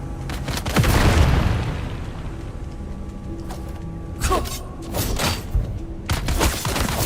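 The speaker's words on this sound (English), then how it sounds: "Throwing grenade." Grenade blast in Dune: Awakening, a loud boom near the start followed by rumbling debris, then sharper bursts and crackling impacts later, with mechanical clanks and a faint voice in the mix.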